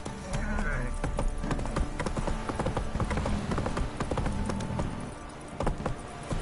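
Roach, the horse in The Witcher 3 video game, trots along with a steady, rhythmic clip-clop of hooves, close and prominent, while a voice speaks over the galloping.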